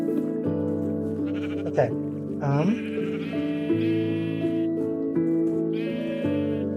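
Several sheep bleating on a Minecraft wool farm, repeated wavering bleats from nearby animals that overlap one another, with a brief spoken word among them.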